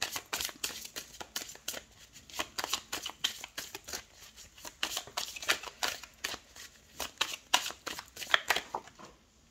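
Tarot cards being shuffled by hand during a reading, a steady run of crisp papery riffles and flicks, close and moderately quiet, with no talking.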